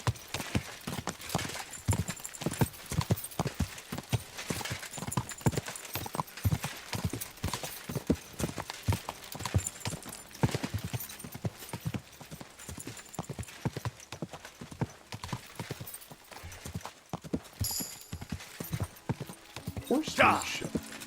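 A horse's hooves clip-clop briskly on a street in Kuttenberg, a continuous, quick, close rhythm that keeps up for around twenty seconds, with occasional faint voices underneath.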